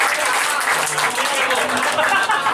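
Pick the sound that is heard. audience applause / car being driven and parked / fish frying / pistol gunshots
audience applause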